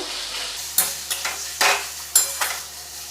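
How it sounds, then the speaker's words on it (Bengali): Sizzling frying of chilli in a pan with repeated stirring scrapes, several sharp strokes over a steady hiss, close by, no talking. "আবার ভাজা ভাজা করব।"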